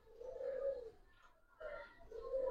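Domestic pigeons, a long-bodied female among Giribaz, Khaki and red-black Musaldom breeds, coo in low repeated phrases, with two or three close soft bursts separated by a brief pause.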